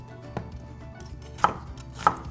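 A knife cuts through an onion on a cutting board, slicing it into thick strips. It gives three or four sharp, separate chops over a faint low hum.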